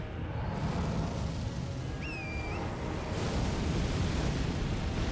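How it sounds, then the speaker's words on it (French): A fire explosion attack from a boss in the video game Elden Ring, a loud sustained roaring rumble of fiery blast that swells and fills the whole clip with dense noise, with a brief whistling tone in the middle. "il a fait son explosion de feu"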